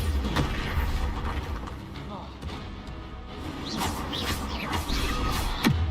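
Spell blasts crash and boom in the Hogwarts Legacy video game, Bombarda and Confringo bursts landing in a steady barrage of thuds and smashes, with a voice talking throughout.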